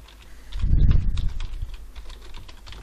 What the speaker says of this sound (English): So I'm just going to type in the name of my video.